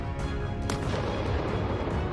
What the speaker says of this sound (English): The strikes caused powerful explosions.